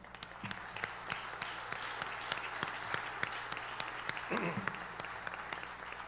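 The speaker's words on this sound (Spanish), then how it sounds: "Quiero pedirles un aplauso para Marco y Patricia, que nos acompañan." Sustained audience applause at a ceremony marking the 129th anniversary of the Bolivian National Chamber of Commerce, a dense steady clatter of many hands filling the room with a few louder claps standing out and a brief voice near the end.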